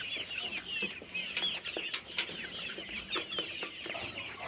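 Chickens clucking and chattering nearby in a steady flock murmur, with scattered sharper calls over a constant background hum.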